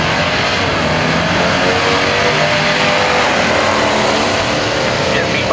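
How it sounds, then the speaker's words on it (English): A 1969 Plymouth Road Runner with a 440 Mopar engine roars in a drag race, loud and sustained engine noise with an announcer talking over it throughout. "69 Roadrunner, 440, big black Mopar."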